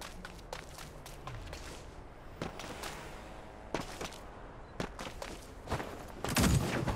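Scattered gunshots in the mecha battle game Super Mecha Champions, sharp single cracks at irregular intervals over a quiet background, with a louder burst near the end.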